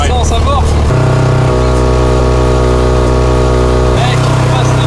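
A Renault 4L's engine droning loud and steady while climbing a hill, with the pitch jumping at gear changes and people talking over it inside the car.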